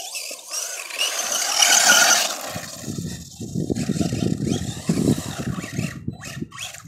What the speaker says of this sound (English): see, that's spinning out like a 2-wheel drive car there